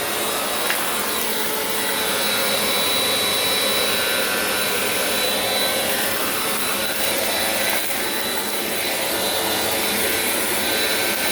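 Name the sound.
Bissell Powerforce Compact 2112 vacuum cleaner running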